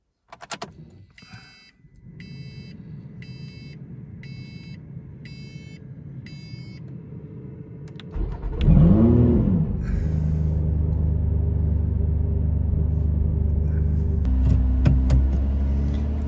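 A Lotus sports car, either an Emira V6 or an Evora GT430, cranks and fires into a deep, close engine rumble that settles to a steady idle with small blips of revs, after some clicks and a faint electronic chime.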